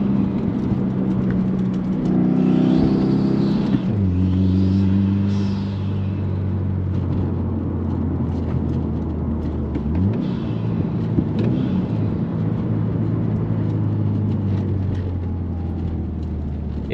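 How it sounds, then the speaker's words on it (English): Subaru WRX STI fitted with rear differential inserts, engine revving up and dropping through a quick downshift, loud and steady from inside the car with rising and falling pitch sweeps. "Let's do a quick downshift."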